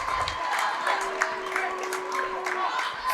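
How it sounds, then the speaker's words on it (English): A high school basketball crowd in a gym cheers and claps after an and-one play, a broad murmuring roar with scattered applause, heard under an announcer's voice. "Crowd lit back up here"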